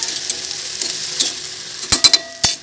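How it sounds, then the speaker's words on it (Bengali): A potato mixture is fried and stirred in a pan, giving a soft hiss of frying with a few sharp scraping clacks of the spatula near the end, close and fairly quiet, with no talk. "মাঝখানে আমি একটু এটাকে একটু নাড়িয়ে নিই, নিচ দিয়ে যেতে বাই চান্স পুড়ে না যায়"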